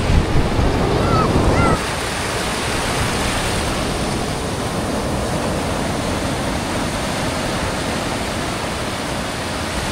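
Steady roar of heavy ocean surf crashing on the sea, broadband and continuous, louder in the first two seconds, with a faint brief voice early on.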